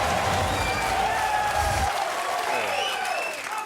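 A studio crowd at a football TV show applauds loudly with dense steady clapping that fades near the end, while voices talk over it.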